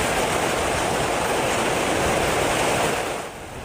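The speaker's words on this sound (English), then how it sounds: "A viewer sent us this video of the pouring rain in Fairfield." Pouring rain in Fairfield, California, makes a dense, steady hiss of heavy downpour that stays loud and even before easing slightly at the end.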